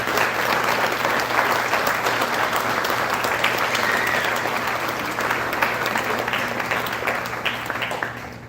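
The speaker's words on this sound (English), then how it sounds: "I think that the student athletes deserve a round of applause for a great year." Sustained, loud applause from a banquet crowd honouring student athletes at an annual sports awards dinner, many hands clapping evenly throughout and tapering slightly at the end.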